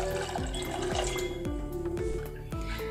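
Water poured from a cup into a bowl of semolina (rava) for halwa, a steady splashing fill with a few sharp gurgling drips, close and moderately loud, no voices.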